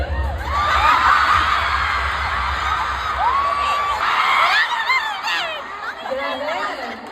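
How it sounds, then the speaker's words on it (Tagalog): Fans shriek and scream at a Park Seo-joon Century Tuna fan meet, with rising, wavering high-pitched cries over a dense crowd roar and chatter, loud and close throughout. "Grabe yung hiyawan ng araw natin."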